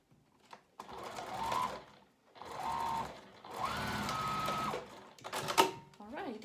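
A sewing machine stitches a seam on a foldover pouch, running in three or four steady whirring bursts with short stops between for backstitching at the start and end, close and loud.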